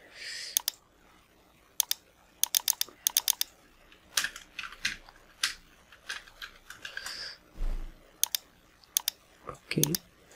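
A computer keyboard is typed on in short clustered bursts of crisp clicks close by, with pauses between runs and a few softer knocks and thumps near the end.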